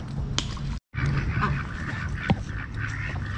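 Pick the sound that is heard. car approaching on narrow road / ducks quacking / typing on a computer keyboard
ducks quacking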